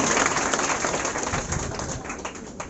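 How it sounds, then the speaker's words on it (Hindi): Dense applause from a coaching-class audience cheering a high school matric board topper, steady patter of many hands clapping close by from start to finish, with no voices over it. "जोरदार ताली के लिए चाहिए"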